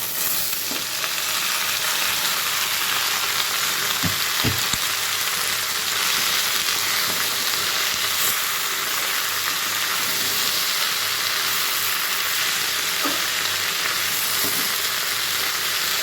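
Mixed homegrown greens with lentils, onion, garlic and potato frying in a pan, a steady broadband hiss of sizzling oil throughout with a few faint clinks near the start and end.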